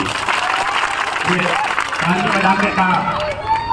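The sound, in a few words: crowd clapping at a political rally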